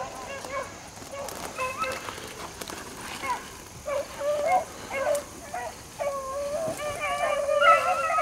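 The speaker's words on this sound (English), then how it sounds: "These are the slow Midwest AKC dogs right here you're listening to right there." AKC hunting dogs giving voice while running a rabbit, a pack of hounds baying and yelping in repeated bursts at mid distance, outdoors and fairly faint.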